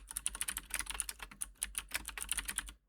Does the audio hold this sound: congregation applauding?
no